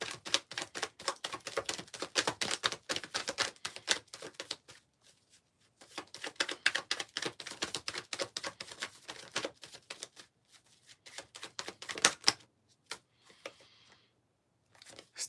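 A deck of cards is shuffled by hand in several bursts of rapid, close riffling and flicking, separated by short pauses, with a few quieter rustles near the end and no talk.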